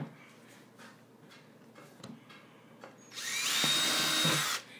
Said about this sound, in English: he's just got 2 more to drill here